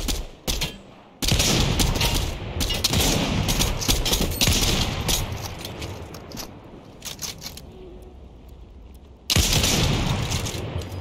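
Rapid bursts of automatic gunfire in the Fortnite video game, loud and close, coming in long rattling volleys separated by brief quiet gaps, with no speech over them.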